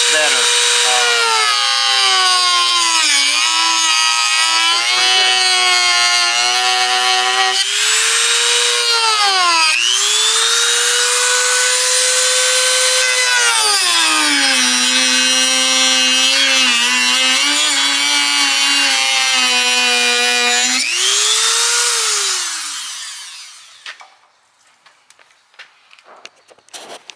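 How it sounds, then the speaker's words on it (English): Dremel rotary tool cutting lines into a Hummer H3 Alpha reverse light housing, a loud high-pitched whine that dips and rises in pitch as the bit loads and frees, running continuously before spinning down near the end. "I'm going to try this Dremel to cut the lines."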